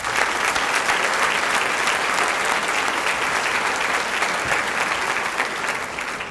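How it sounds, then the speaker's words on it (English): A banquet crowd claps steadily and loudly for several seconds, a dense, even wash of applause that fades slightly at the end. "Would you give them a quick round of applause?"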